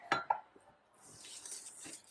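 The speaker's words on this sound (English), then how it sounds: "We're going to fix that with a whisk." A whisk works through lumpy chocolate pie filling in a pot, opening with two sharp metallic clinks against the pot, then a soft, quiet scraping swish that carries on.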